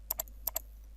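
A computer keyboard is struck twice in quick succession, a pause follows, then two more crisp keystrokes come as a value is typed and Enter is pressed, close and clear over a low steady hum.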